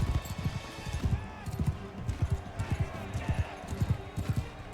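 Horse hooves galloping in Mount & Blade: Bannerlord, a steady rapid run of soft thuds beneath battle noise, with someone talking over much of it.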